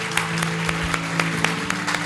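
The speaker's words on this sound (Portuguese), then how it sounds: "Uma salva de palmas para ela." Audience applause at a church evening program, steady clapping with sharper individual claps over a constant low hum, moderately quiet and without talk.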